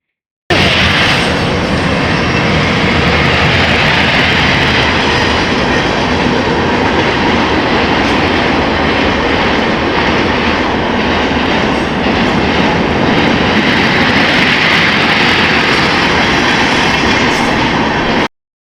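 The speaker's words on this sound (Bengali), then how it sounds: "ওদের বাড়ির ছাদে উঠলেই এরকম ট্রেন যাচ্ছে দেখা যায়" A loud train rumbles past close by for a long stretch, a dense continuous roar with rattling wheels and clanking carriages.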